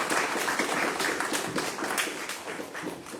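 Audience applause at a book discussion event: a steady, fairly close stream of many hands clapping that holds throughout, with no voices.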